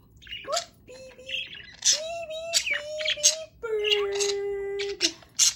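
A pet budgie chirps, whistles and squawks indoors in a run of short calls and longer tonal whistles, close and fairly loud, with a person softly talking to it in between.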